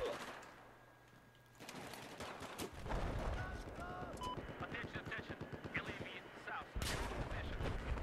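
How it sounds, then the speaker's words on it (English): Rapid gunfire in Battlefield 4, several sharp shots and bursts with booming artillery-like impacts, mostly steady and fairly loud through the second half, with no voice over it. "I'm just getting shot at from every fucking angle."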